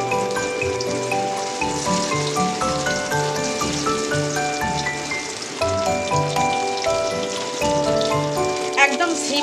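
Potatoes drop into three tablespoons of hot mustard oil in a kadai and fry with a dense, steady crackling sizzle, close by, while a person talks over it.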